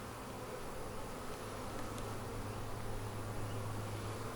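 Honey bees buzz steadily and close around hive frames in an outdoor bee yard, a dense, continuous hum with no voices.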